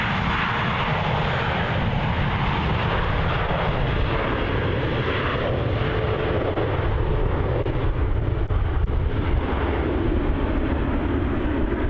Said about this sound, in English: On departure there we have Jetstar flight JQ566 off to Brisbane.